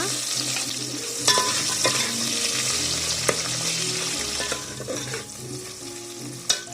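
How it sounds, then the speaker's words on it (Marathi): Chopped onion and green chillies frying in a pan over a wood-fired stove, a steady sizzle with a few sharp scrapes and clinks of a spatula stirring, close and clear with no talking. "सो कांदा हलकासा तळून झालेला आहे थोडासा ट्रान्सपरंट झाल्यासारखा"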